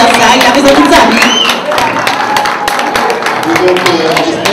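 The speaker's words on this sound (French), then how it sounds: "il faut applaudir notre élu" An audience claps for an elected official at the election of the tropical carnival queen in Colombes, a dense burst of applause spreading across the whole moment, with voices mixed in.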